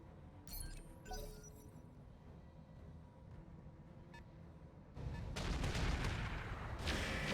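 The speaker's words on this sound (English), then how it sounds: "they're shooting at the Maxim" Weapon fire in the mech game RogueTech: a couple of sharp cracks early, then a quiet lull, followed by a sustained heavy barrage of loud, dense bursts toward the end.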